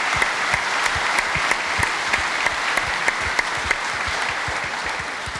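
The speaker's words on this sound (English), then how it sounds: "Should we get a little clap for that?" A live podcast audience at a Wrexham event claps steadily for several seconds, a dense, even wash of many hands with sharp individual claps standing out near the front.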